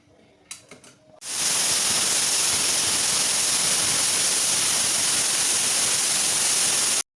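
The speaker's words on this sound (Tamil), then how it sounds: "குழம்பு நல்லா கொதிச்சு வந்துட்டு" Mutton curry (kuzhambu) with tomato boils hard in a pot, giving a loud, steady, unbroken bubbling hiss that starts abruptly after a few faint clicks and runs to the end without talk.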